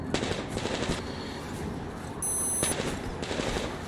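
Gunfire in Metro Exodus, rapid bursts of automatic shots in several clusters with brief gaps between them, fairly close over a steady background din.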